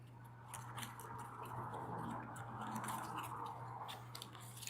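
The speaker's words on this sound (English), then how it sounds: "time to shuffle these up, and then I will draw 3 cards" A deck of game cards is shuffled, producing a close, soft riffling and slapping patter of card edges that runs steadily without any talking.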